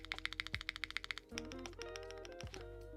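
Keys on a 65% mechanical keyboard clack in a fast, even run of crisp strokes, then give way to a denser rattling flurry of typing, close and fairly quiet.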